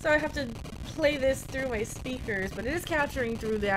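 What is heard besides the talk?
No everyday noises stand out.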